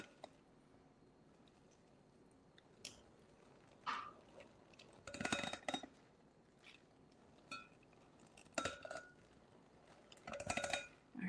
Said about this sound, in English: mix in circles round and round slowly, keeping all the ingredients in the bowl